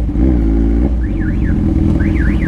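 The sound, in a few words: car alarm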